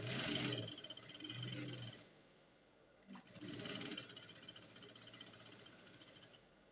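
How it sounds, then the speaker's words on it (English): Sewing machine stitching fabric in short runs, a rapid whirring buzz starting and stopping with a brief pause and click between bursts, close and quiet. "Okay, so I'll sew this now."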